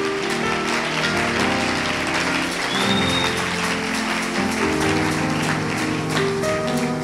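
A church congregation applauds to acclaim the Lord: loud, dense, sustained clapping fills the space for several seconds, with steady tonal sound running underneath.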